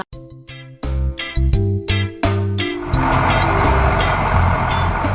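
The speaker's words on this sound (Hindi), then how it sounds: "एक पीला ट्रक सामान लेकर पहुंच चुका है" A cartoon yellow truck arrives at a supermarket with a loud, steady series of reversing beeps. Heavier engine rumble and hiss build up toward the end.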